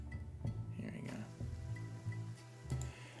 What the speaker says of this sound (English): Light rain has taken over the city streets.